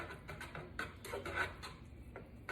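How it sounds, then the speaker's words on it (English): A spoon stirs food in a pot, making faint, rhythmic scraping and clinking strokes repeated steadily in a quiet kitchen. "And we're going to stir this up."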